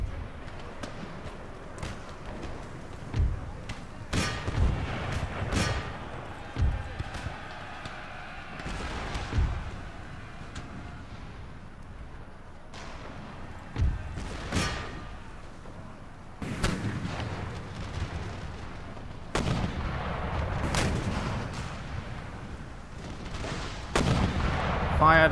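Mortar and artillery fire in an Empire Total War Darthmod battle, repeated heavy booming blasts with scattered gunfire and thuds, some near and loud and others more distant, over a constant background rumble of battle.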